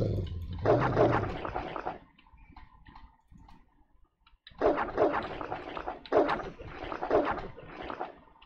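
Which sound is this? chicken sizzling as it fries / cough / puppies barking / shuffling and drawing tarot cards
puppies barking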